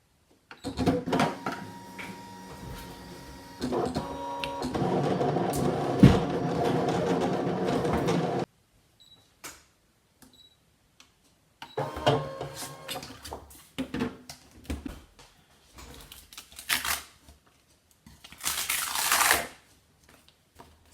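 A Brother ScanNCut cutting machine cuts vinyl with a busy mechanical whir and clatter for several seconds, then stops, followed by quieter intermittent movements, small bumps and a brief rustle near the end.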